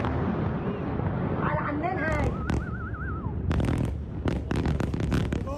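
Explosions in a war scene in Beirut, a series of booming bursts and crackling blasts, with a whistling tone rising and falling in the middle, mixed with background voices and noise.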